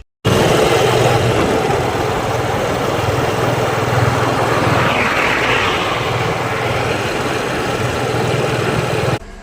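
A motorcycle engine runs steadily at a constant idle-like drone, loud and close, with no talk, starting abruptly and cutting off at the end.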